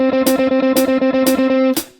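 A distorted electric guitar run through effects chugs out a fast, steady 16th-note rhythm, with brighter accented strums landing about every half second over roughly two seconds and no voice present.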